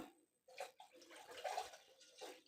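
Milk, about 250 grams, is poured into a pan for a sweet made with sea moss, giving a continuous liquid splashing and gurgling with a few soft bursts, close and alone without talk.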